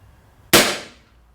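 A single air rifle shot fires up close, a sharp loud crack with a short decaying tail, alone against quiet background.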